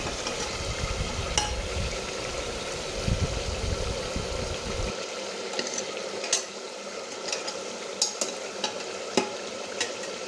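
Chicken and soaked rice stirred together in a pressure cooker for kachchi biryani, a steady frying hiss with scattered spoon scrapes and clinks, heavier and fuller in the first half, then thinner with sharper knocks.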